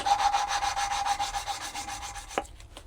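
A wooden lapping stick works an engine valve against its seat in a K20z4 cylinder head, making quick, regular gritty rubbing strokes close by before stopping with a short tap.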